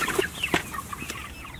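Chickens clucking close by, a few short throaty clucks and chirps scattered over under two seconds.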